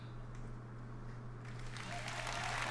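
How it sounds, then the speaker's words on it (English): Clapping at a press conference breaks out partway through and grows into steady, fairly loud applause over a low hum. Before it starts there is only faint room noise. "At least the people here in this press conference are pumped, though. They're clapping and everything."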